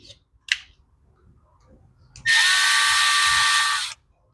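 A power driver whirs steadily for about two seconds, running screws into an Echo blower carburetor during a rebuild, with a few light clicks and taps of handling just before.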